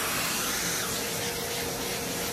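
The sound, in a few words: vacuum cleaner cleaning guitar after sanding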